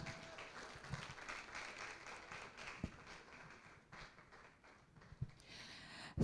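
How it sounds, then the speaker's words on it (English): Faint, scattered applause from an audience at a book launch welcoming the author, with a few louder claps and thumps over a low room murmur. "With a round of applause, can we welcome the author herself, Miss Imole Ayo Temola."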